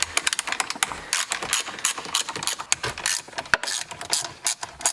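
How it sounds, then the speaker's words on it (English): A ratchet driving a 10mm socket loosens the steering-wheel airbag nuts on a 2010 Mazda3, a rapid, close clicking that comes in uneven bursts with no talk over it. "you're going to remove the two nuts that you exposed with the 10mm socket"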